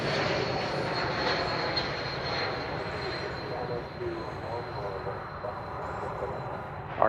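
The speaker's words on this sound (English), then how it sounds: "We're going to pull away from this to bring you the arrival of Delta Flight 2798 from Minneapolis, St. Paul." A Delta Airbus A220 jet arrives at DFW Airport, its engines a steady, broad roar with a thin high whine, heard from a distance throughout.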